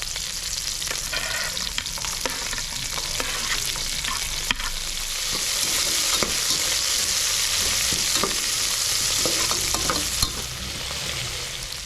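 Chopped garlic sautéing in a pan with onions, a steady sizzle broken by the scrape and clatter of a spoon stirring, close and continuous without speech.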